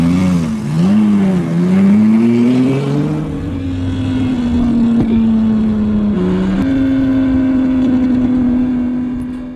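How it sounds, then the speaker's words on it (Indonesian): A car is driven recklessly through empty towns in a film scene, its engine loud and close, revving in wavering pitch at first, then holding a strained, steady high whine with a short shift partway through. "Dia naik mobil dengan ugal-ugalan, melintasi kota-kota yang sepi."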